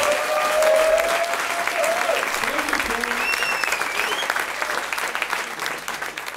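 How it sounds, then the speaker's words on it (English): Audience applause at a youth entrepreneurs keynote in Slovenia, steady dense clapping from a crowd filling the hall, sustained and slowly fading, with faint voices mixed in. "Let's give a big round of applause for Troy and Ben."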